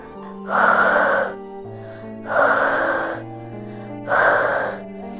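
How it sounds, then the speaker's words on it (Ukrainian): Three slow, breathy exhalations of warm air onto hands come in a steady rhythm, close and soft, blown out with an open mouth. A faint tonal background plays underneath. "Піднесіть руки до рота та видихайте на них тепле повітря."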